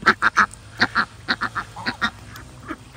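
Geese and Muscovy ducks call in a farmyard, a loud rapid series of honks and quacks in uneven bursts, close by.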